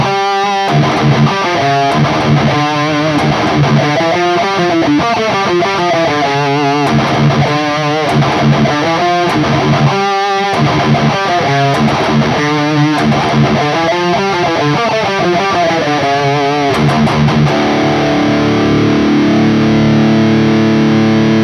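Heavily distorted extreme metal guitar riff from a song. Low chugging palm-muted notes with climbing scale steps run at a fast, driving rhythm, loud and dense throughout, ending on a ringing chord.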